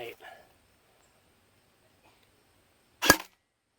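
A Cyma 045C airsoft gun fires a single sharp shot at an outdoor range, loud and close, after a few brief murmurs and a long stretch of near silence.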